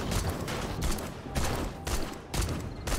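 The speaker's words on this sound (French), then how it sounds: "Moi je prends mon temps pour leur tirer dessus" Rapid bursts of gunfire in the zombie survival game 7 Days to Die, several sharp loud volleys fired in quick succession with short gaps between them.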